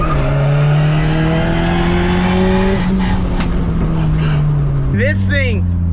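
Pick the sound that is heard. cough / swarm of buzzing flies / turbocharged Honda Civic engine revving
turbocharged Honda Civic engine revving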